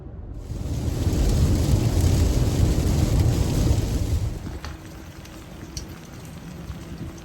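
Steady rain pours down in Ontario, a dense close hiss of drops that swells and then eases off to a lighter patter, with a few faint knocks toward the end and no voices.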